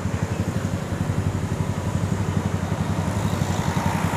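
A Yamaha Mio motorcycle fitted with a racing exhaust idles at a workshop in Ciledug, giving a loud, close, steady pulsing engine drone for the whole stretch with no talking over it.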